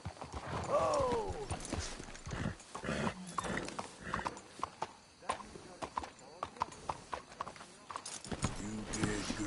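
Horses in Red Dead Redemption 2 walk with steady, close clip-clopping hooves, joined by a dog barking and a brief neigh, while people talk over the hoofbeats.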